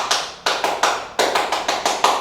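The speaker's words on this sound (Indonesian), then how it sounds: "Ya, ada tepuk pramuka." Scouts (Pramuka) clap together in a rhythmic group pattern, a close series of sharp, bright hand claps in short bursts with brief pauses between phrases.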